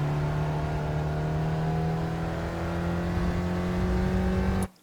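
An open-wheel SRF race car in the iRacing sim at Barcelona's GP circuit accelerates out of a corner in third gear, a steady droning engine note holding loud and constant before cutting off abruptly at the end.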